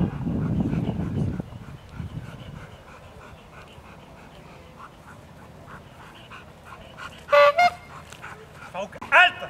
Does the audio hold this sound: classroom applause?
no